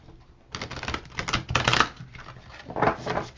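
Close, crisp riffling and flicking of playing cards being shuffled in several quick bursts, no voices.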